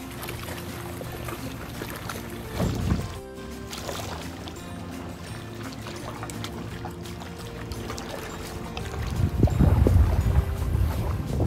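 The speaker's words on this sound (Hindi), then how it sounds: "एक बार अपनी आंखें बंद कीजिए और समुंदर की आवाज़ सुनिए" Steady wash of sea water and wind around a boat near Phuket, Thailand, with occasional splashes and a louder surge of water near the end.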